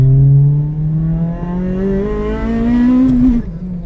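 Acura RSX Type S engine revving hard, pitch climbing steadily into VTEC with a sharper, rising howl before cutting off, loud and close.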